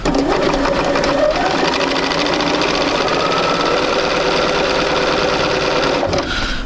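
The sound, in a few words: sewing machine stitching a quarter-inch seam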